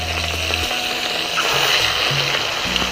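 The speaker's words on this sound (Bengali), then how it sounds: "এখন মাছগুলো ভেজে নেওয়ার জন্য কড়াইতে তেল দিয়ে দিলাম" Pieces of rohu fish frying in hot oil in a wok give a loud, continuous crackling sizzle close up, with a few low bubbling pops and no talking.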